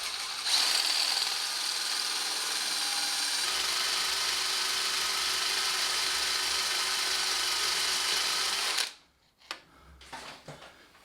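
A four-tooth drill bit grinds steadily through metal on a Suzuki GS1150 motorcycle for several seconds under a constant whine, then stops abruptly, followed by a few clattering knocks.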